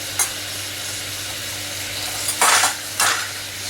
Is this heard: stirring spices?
yes